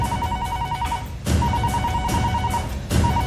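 A telephone rings in repeated trilling bursts, fairly loud and close, with short pauses between rings over a low background.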